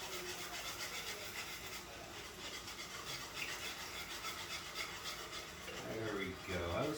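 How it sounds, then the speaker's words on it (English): Coffee is whisked into a red-eye mushroom gravy in a pan, producing a quiet, continuous scraping and rubbing with a rapid back-and-forth rhythm, soft and close. "Whisk it in there so there's no lumps."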